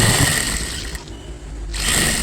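A sewing machine runs a double line of stitching along a blouse, a loud continuous mechanical whir that dips briefly mid-clip when the stitching pauses, then resumes at full speed, close up and without talking.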